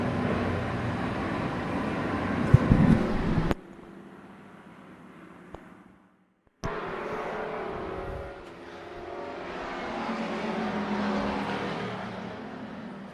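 Race cars roar around the oval at Tucson Speedway, running side by side for position; loud engine drone sweeps past, drops away briefly, then builds again as the pack returns.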